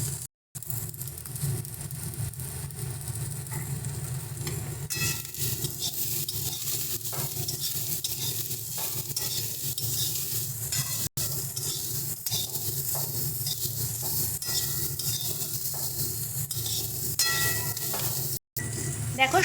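Carrots and cauliflower softening as they fry in a pan with turmeric and salt, a continuous sizzle broken by scraping stirs of a spatula, close up and steady with no talking.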